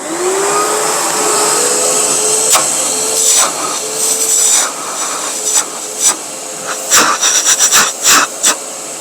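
Two Bosch shop vacuums, a GAS 15 PS and a GAS 12-25 PL, switched on and running loud and close, a sustained whine with shifting pitch and several sharp intake bursts and thumps toward the end.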